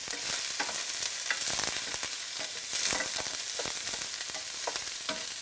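Onions frying in a pan while being stirred for a chicken chickpea curry, with a steady close sizzle broken by repeated soft scraping strokes and no talking.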